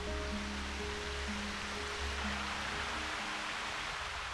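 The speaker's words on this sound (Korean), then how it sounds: "1년 내내 비가 오지 않아도 마르지 않는 폭포입니다." A perennial waterfall in the rainforest of Christmas Island in the Indian Ocean gives a steady, even roar of falling water, a constant broadband wash with no voices.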